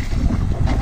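A boat travels from a river into a canal, its low rumbling wash and wind buffeting the microphone in a brief, loud, steady burst.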